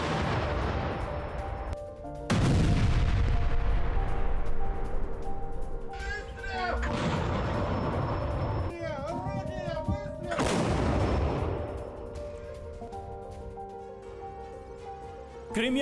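Artillery and gunfire from a Russian army attack on Ukrainian positions in Kherson: heavy booming blasts and sharp reports at irregular intervals, with loud broadband bursts and crackling between them.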